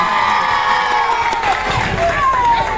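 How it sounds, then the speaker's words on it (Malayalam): A crowd claps and cheers for the staff of Elegance Bridal Rental at a gathering, a loud, continuous wash of applause with whoops and shouts, and voices rising through it. "അതിന് ഇവർക്ക് ഒരു നല്ലൊരു കയ്യടി ഇവർക്ക് വേണ്ടി കൊടുക്കും."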